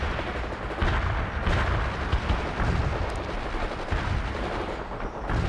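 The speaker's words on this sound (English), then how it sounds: "Load your grenades and fire!" Grenades launch and explode amid battlefield gunfire in the game World in Conflict, with dense overlapping booms and rumbling blasts continuing throughout.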